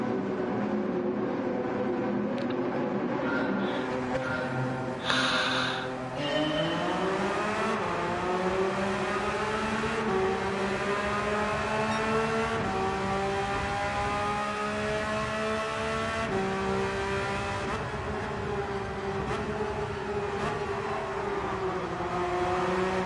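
Race cars in Gran Turismo 7 roar through an online race, one engine droning loud and close as it revs and shifts through rising and falling pitch without pause, with no talk.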